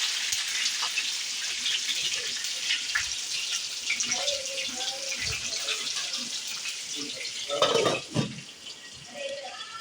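Dried red chillies frying in hot oil with cloves, green chillies and bay leaf, a steady close hiss of sizzling with a few brief louder crackles and a voice faintly underneath.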